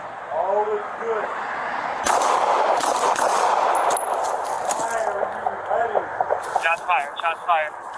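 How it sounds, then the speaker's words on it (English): Several sharp gunshots ring out during a police welfare check where a man points a firearm at deputies, the bangs cutting through a radio-style voice and continuing amid urgent talk over a constant background hiss. "Shots fired."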